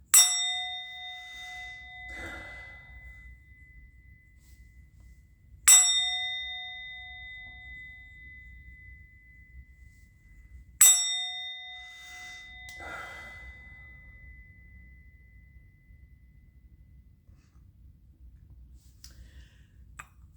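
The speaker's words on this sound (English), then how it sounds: "I'm going to ring the bell." A bell is struck three times at even intervals, each strike a bright, ringing clang that decays slowly into a quiet room. A few soft handling clicks and breaths sit between the strikes.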